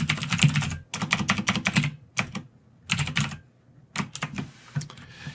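Rapid bursts of keystrokes on a computer keyboard as code is typed, clustered in quick runs separated by short pauses, close and clear with no talk.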